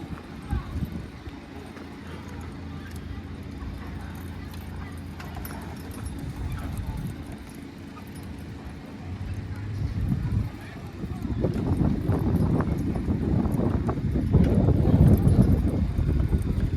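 Hooves of heavyweight draft horses at a county fair horse pull in Angelica, New York, clop steadily under an announcer's talk and the murmur of the crowd, growing busier and louder toward the end.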